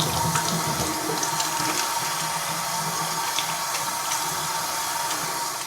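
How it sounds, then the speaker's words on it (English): Hands are washed under a running kitchen tap, a loud, steady rush of water splashing close by, continuous and unbroken, with light shifts as the hands move through the stream. "Next, I'm going to wash my hands."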